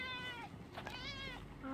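A house cat meows repeatedly in several drawn-out, rising and falling calls, close and clear, with a short one at the end and no talking over it.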